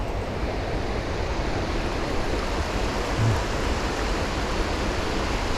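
Waterfall along a walking trail on a clear, mild winter morning: a steady, dense roar of rushing water, loud and close, unbroken and with no voices.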